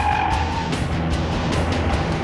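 An Audi RS6 Avant engine in dynamic mode roars steadily and loudly throughout, with rising rev surges and brief shifts in pitch, no talk over it.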